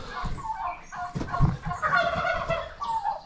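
Turkeys gobble close by in a farmyard, rapid, warbling calls that overlap and run almost continuously, loud and near.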